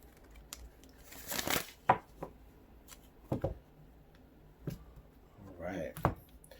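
Tarot cards shuffled by hand during a reading, giving a few short papery riffles and slaps spaced irregularly, close and moderately loud, with some quieter rustling between them.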